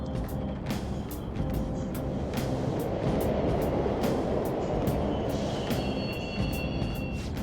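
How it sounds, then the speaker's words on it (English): Subway trains rumble steadily in Persona 5 Royal, a dense low rolling roar with faint metallic squeals and brief clicks running throughout at a constant level. "The trains are totally running!"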